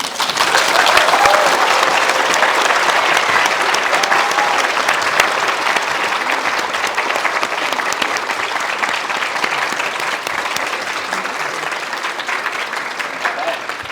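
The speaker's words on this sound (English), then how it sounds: "First of all, a big round of applause." Audience applause at a university talk and Q&A in Manchester, a dense steady round of clapping from a large crowd that runs unbroken for the whole stretch, fairly loud and close.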